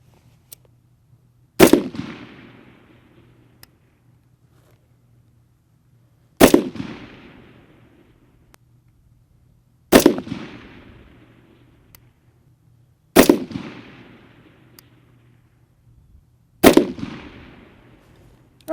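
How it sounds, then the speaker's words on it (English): A rifle firing a five-shot group while being zeroed on a range, five loud sharp reports spaced a few seconds apart, each trailing off into a brief echo, with no talking. "All right, Specialist Cleland, let's go ahead and put up a good solid 5-shot group."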